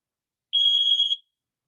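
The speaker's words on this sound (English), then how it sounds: "I think they're testing my fire alarms." A fire alarm under test gives one shrill electronic beep lasting over half a second, clear and isolated against silence.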